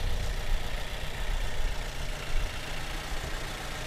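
A 2014 Daihatsu Xenia X engine idles with a low, even rumble, steady and close, with no talking over it.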